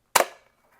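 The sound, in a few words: toy Glock slide yanked back and released, reloading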